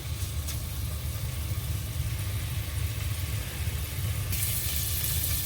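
Sausages sautéing in a pot for a beef and chicken empanadas meal, a steady sizzle under a low constant rumble, brightening toward the end, with no talking.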